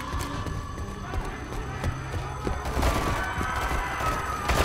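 Horses clatter and whinny amid chaotic gunfire in the Call of Duty: Modern Warfare 3 video game, with hoof clops and bursts of shots layered over a steady background din and occasional voices.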